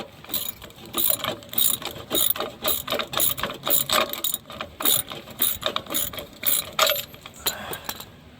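A hand ratchet snugs an oil pan bolt up under a 2008 Suzuki Forenza, giving a steady run of sharp, close pawl clicks in quick rhythmic bursts, with no talk.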